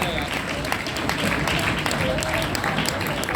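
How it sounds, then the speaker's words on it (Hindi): An audience at a political gathering in India applauds steadily throughout to welcome a guest, a dense patter of many hands clapping, with a voice faintly mixed in. "जोरदार तालियों से हम लोग उनका स्वागत करेंगे।"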